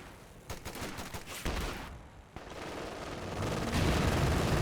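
An MG42 machine gun fires in Company of Heroes 2 in long rattling bursts, with a short pause before a dense, continuous stream of gunfire and battle noise swells louder toward the end.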